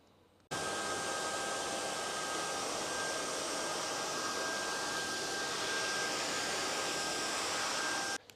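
An upright washing vacuum cleaner runs with a loud, steady whine and rushing suction, pulling remaining water through its tubes for several seconds, then abruptly shuts off.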